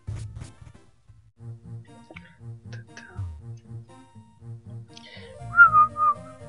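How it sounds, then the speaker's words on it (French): Shrill human whistling with gliding pitch bursts near the end of a French Pokémon Scarlet/Violet game session, preceded by quiet game music with a steady low pulse; the whistles are loud and close. "Pardon pour vos oreilles, hein, pour le sifflement."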